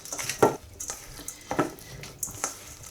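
Paneer filling being mixed by hand in a bowl, with scattered light clinks and scrapes against the bowl at an irregular pace, fairly quiet and close.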